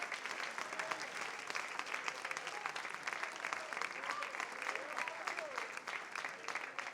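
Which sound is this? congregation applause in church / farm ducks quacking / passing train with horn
congregation applause in church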